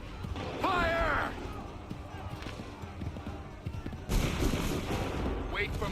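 A volley of gunfire in Assassin's Creed III Remastered rings out as a sharp, broadband burst after a shouted voice, set among scattered battlefield cracks and background game noise.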